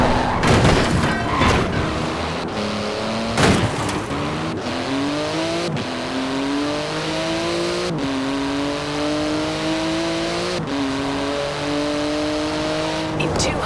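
A Porsche 911 GT2 engine drives in Forza Horizon 4, loud and near, climbing through repeated rising revs with sharp gear changes while someone talks over it.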